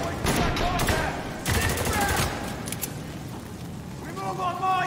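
Gunfire in Spec Ops: The Line, rapid bursts of automatic fire in the first half fading into quieter crackling, with shouted voices over the shooting.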